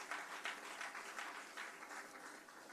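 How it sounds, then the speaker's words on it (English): Audience applause at a Ministry of Labour and Social Security PATH town hall meeting: a steady wash of many hands clapping, faint and distant, continuing evenly without voices. "Please give her a round of applause."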